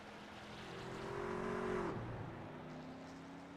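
A race car on a track holds a droning engine note that swells louder, then the pitch drops sharply as the car passes, continuing at a lower steady tone afterward.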